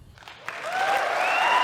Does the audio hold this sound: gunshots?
no